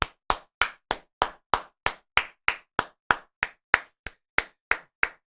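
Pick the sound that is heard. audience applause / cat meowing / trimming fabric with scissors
audience applause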